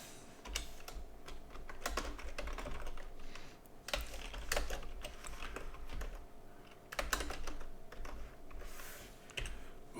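Steady, rapid typing on a computer keyboard while working in Excel: dense clusters of close, crisp key clicks with brief pauses between bursts, no talking.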